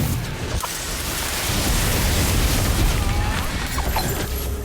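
Confringo blasting spell in Harry Potter: Magic Awakened, a loud, dense rumbling explosion with crackling debris that swells and sustains for several seconds in the game's battle.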